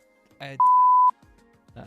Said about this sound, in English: I can bleep.